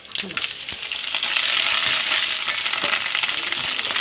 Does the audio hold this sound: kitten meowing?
no